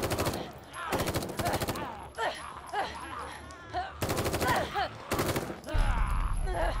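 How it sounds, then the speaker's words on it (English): Automatic gunfire in The Evil Within 2 comes in several sharp rapid bursts separated by short gaps, loud and close, with a voice talking between them. "No, I definitely shot her."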